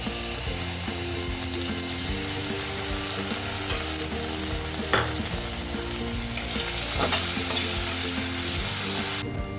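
A spoon stirring bread poha with urad dal in a hot frying pan, a continuous crackling sizzle with scraping and clinking strokes against the pan, close and steady throughout with no talk.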